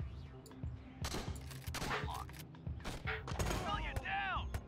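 Rapid gunfire in the top-down tactical shooter Door Kickers, bursts of sharp shots in quick irregular succession over a steady background hum, ending with whistling, warbling tones near the close.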